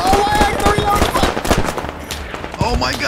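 Rapid bursts of video game gunfire crackle close and loud in dense, irregular volleys, mixed with excited talking throughout.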